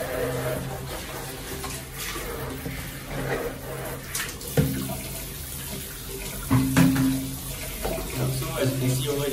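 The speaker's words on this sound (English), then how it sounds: "I'm gonna aim my shower head at the basin over here" A shower head sprays water into a basin during weekly aquarium maintenance, a steady close splashing rush with a few louder surges, with a person talking at times.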